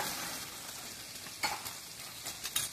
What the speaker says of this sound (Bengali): আলুটাও ভালোভাবে লাল লাল করে ভেজে নেব।